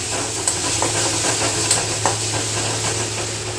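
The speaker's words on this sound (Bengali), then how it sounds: "দেখো এবার আমরা একটুখানি দিয়ে দিচ্ছি গরম মশলা গুঁড়ো, আবারও ভালোভাবে কষিয়ে নেব।" Spice paste with garam masala powder sautés in oil for a Bengali tel koi fish curry, giving a steady close sizzle and hiss with faint stirring scrapes.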